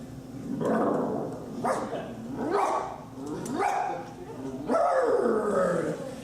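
A cabaret improviser imitates a guide dog barking, voicing a run of rough, throaty woofs and yelps one after another, loud and close, with a room echo behind them.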